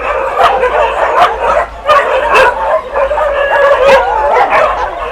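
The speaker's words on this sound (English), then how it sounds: "I think there's about 120 dogs in here. That's what it normally sounds like." Roughly 120 dogs in an animal shelter bark, yip and whimper at once, a loud, continuous, overlapping chorus of close and distant barks with no letup.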